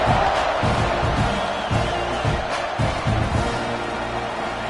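Football stadium crowd at a Texas A&M versus Oklahoma game roars steadily as the kickoff team lines up, a dense continuous wash of cheering with scattered whoops and a few louder swells.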